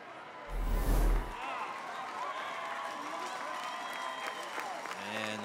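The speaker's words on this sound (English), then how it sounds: "And the fans cheering as the officials mark it just inside the 10-yard line" Crowd noise from football fans at a Gardner Edgerton vs Olathe North high school game, a brief loud burst of cheering and clapping early, then a steady distant crowd murmur under commentary.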